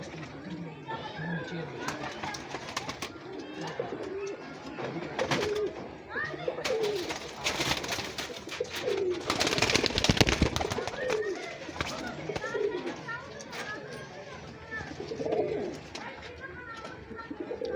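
Pigeons in a breeder's loft in Islamabad coo and flutter in soft repeated calls, while someone talks close by throughout.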